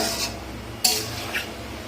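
Yardlong beans and potato stir-fried in a pan, with a soft background sizzle, a sharp metallic scrape of a utensil against the pan partway through, and a lighter scrape shortly after.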